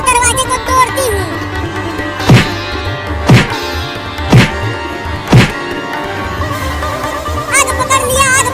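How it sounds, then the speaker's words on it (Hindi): A jammed house door in a Holi-themed comedy cartoon is broken open with four heavy, evenly spaced thuds about a second apart. They sound close and forceful over steady background music. "रुको, मैं दरवाजे को तोड़ती हूँ।"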